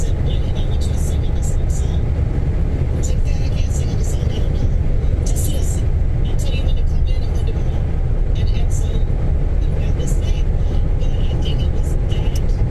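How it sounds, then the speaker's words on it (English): A people carrier cruises along the M9 motorway near Falkirk in heavy traffic out of Edinburgh, a constant loud road roar and tyre rumble inside the cabin, with faint murmured voices and occasional whooshes of passing vehicles. "A lot of traffic coming out of Edinburgh."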